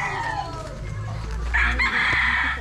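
Chickens from a small backyard flock of one hen and two roosters, crowing and clucking close by over steady low rumble and background noise, with a louder crow rising in the second half.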